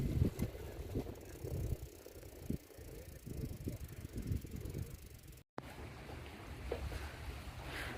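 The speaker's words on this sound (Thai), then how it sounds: "เราปั่นจักรยานมาเรื่อยๆนะคะ" A bicycle being pedalled along a seaside path at Bang Khun Thian, Bangkok, with a soft mechanical whir and rattle under open outdoor ambience; the sound drops out for a moment before resuming.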